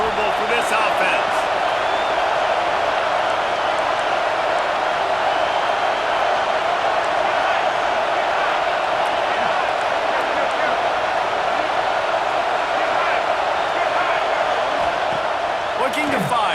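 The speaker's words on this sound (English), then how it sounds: "This crowd trying to make life miserable for this offense." A football stadium crowd at an Alabama versus Auburn game roars in a dense, unbroken wall of noise that holds steady and loud throughout, like a broadcast heard from inside the stands.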